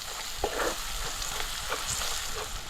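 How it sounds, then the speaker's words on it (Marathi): Homemade Kokani masala, onion and tomato sautéed in a pan for a brinjal, potato and drumstick vegetable dish, with a steady sizzle and a few soft scrapes of a spoon stirring, no voices. "आता हे चांगले असे मसाले ह्यामध्ये परतवून घ्यायचे सगळा मसाला कांदा टोमॅटोला लागला पाहिजे"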